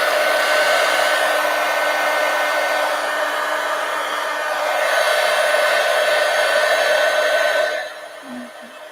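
A hair dryer blowing on glued paper for a large collage poster, a loud, steady whirring roar running for about eight seconds before it switches off and drops to quiet.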